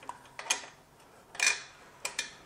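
Small metallic ticks and clicks from a 10 millimeter wrench loosening the exhaust flapper-valve cable collars on a 2019 Aprilia V4 Tuono 1100 Factory, a few close light clicks in quick groups.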